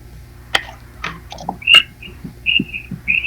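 Short, high whistled notes come from outside, a few brief chirpy tones spaced apart, fairly faint, with scattered clicks and thumps.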